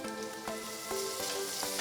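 Onion with ginger garlic paste sizzles and crackles steadily in a hot pan for a vegetable pulao, with a few soft scraping stirs of a spoon across the pan and no talking.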